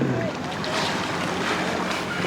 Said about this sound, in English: Got Manny wilding on the jet ski